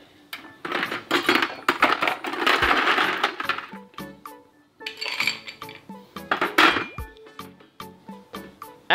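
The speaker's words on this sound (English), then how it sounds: "We fill the glass with ice." Ice cubes clatter and clink into a glass for strawberry-thyme lemonade in rapid, rattling bursts, followed by a few scattered individual clinks.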